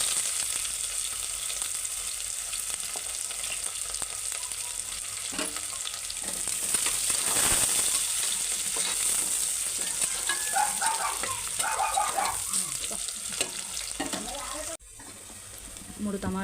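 Finely chopped onion frying with bay leaf, shahi jeera, cloves and cinnamon in oil, a steady soft sizzle with occasional stirring and scraping in the pan.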